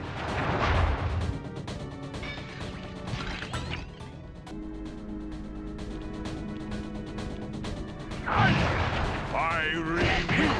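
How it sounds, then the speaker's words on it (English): Firework explosions from a fire-based attack in the Sly Cooper video game, with repeated bursts and crackling blasts over a music bed, loud at the start and again near the end. "I will send you to your doom with the beauty of my new firework technique"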